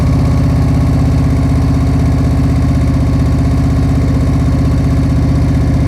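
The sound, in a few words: motorcycle engine idling during slow-speed riding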